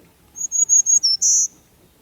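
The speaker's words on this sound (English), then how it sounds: "Another bird that has just returned, I just heard it today for the first time, is a black-throated green warbler." A black-throated green warbler sings a short, buzzy, high-pitched phrase of several quick notes ending in a longer drawn-out buzz, clear and fairly close against a quiet background.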